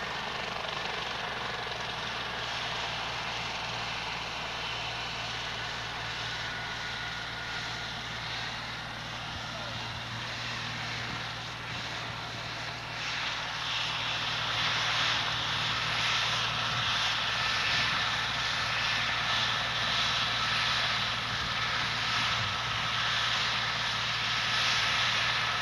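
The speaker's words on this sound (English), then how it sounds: "the helicopter has landed." A helicopter sits on the ground after landing at a 1993 fire department open house, its steady engine and rotor drone continuous and moderately distant, with people talking over it.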